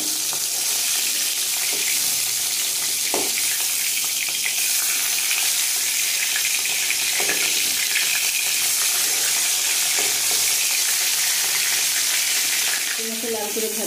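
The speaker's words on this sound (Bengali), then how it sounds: "মাথা লাল করে ভাজা হয়ে গেছে" Fish heads, katla, shallow-frying in hot mustard oil and turning reddish give a steady, loud sizzle throughout. A few soft clinks and scrapes of turning sound over it, with no talking.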